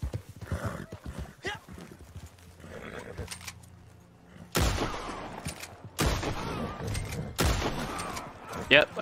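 Gunfire in the video game Red Dead Online, several sharp, loud shots cracking in sequence amid horse hooves and neighing, with someone talking in between.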